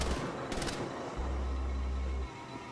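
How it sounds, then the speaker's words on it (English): Gatling gun fire against zombies in Wolfenstein: The Old Blood, a sustained rumbling burst with heavy low-end thump that runs for over a second amid other gunfire clatter, no talk. "We just need to kill a shit ton of zombies with a Gatling gun."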